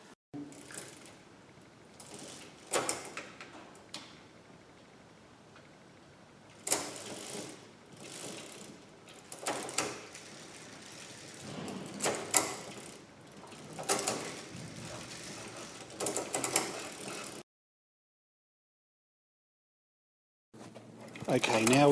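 A freshly assembled adult tricycle's derailleur clicks and ratchets through its gears in repeated short bursts, close and fairly quiet, ending in a brief silence before another click.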